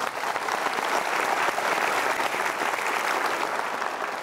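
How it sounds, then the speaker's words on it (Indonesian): Dense, sustained applause from a large indoor studio audience on a television talk show, even and loud throughout with no pauses. "Boleh berikan tepuk tangan sekali lagi"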